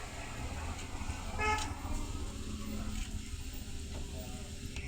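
Potatoes frying in a pan with chili powder masala, giving a steady, dense sizzle throughout with occasional stirring scrapes, close up and without speech.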